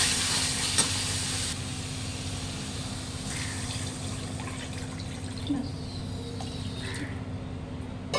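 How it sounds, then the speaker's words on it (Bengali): Water is poured into frying spice paste for a rohu fish kalia, producing a continuous soft sizzle and bubbling in the pan, moderately close, with faint stirring and no clear talk. "মশলা কষা হয়ে গেছে, এবং নিজে জল দিয়ে দেবো।"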